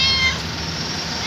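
A stray cat found lying in the street gives one short, close meow, followed by a low background hum with no talk.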